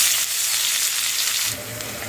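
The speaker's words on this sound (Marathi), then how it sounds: "कढईमध्ये तेल घालून ते आता आपल्याला परतून घ्यायचं आहे" A ground paste of dried coconut, sesame and tomato sautés in a little oil in a wok for stuffed brinjal, giving a close, steady, loud sizzle that runs without a break.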